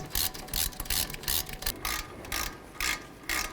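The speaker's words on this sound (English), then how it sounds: "Let's torque these to 25 foot-pounds." A ratchet torque wrench tightening the front brake caliper bolts on a 2005–2016 Ford Mustang, a series of quick, close clicking bursts in uneven short runs.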